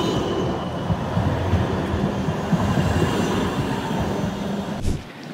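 A tram runs on street rails with a steady, loud rolling rumble and a rail hiss, continuous and close, then cutting off abruptly near the end.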